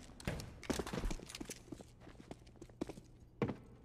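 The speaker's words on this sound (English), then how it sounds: "Plenty of footsteps heard by Fnatic." Footsteps in a Counter-Strike: Global Offensive match between Astralis and Fnatic, a handful of soft thuds and scuffs at uneven intervals, moderately close, over a low steady hum.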